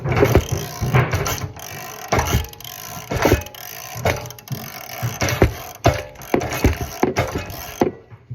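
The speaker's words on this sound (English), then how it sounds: "Or I can put like the socket wrench on it and use it as like a kickstart" A socket wrench ratchets on a go-kart engine in repeated bursts of close mechanical clicking, each followed by short pauses.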